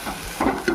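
Onion and tomato pieces frying for chicken curry, a brief close sizzle with a couple of stirring scrapes.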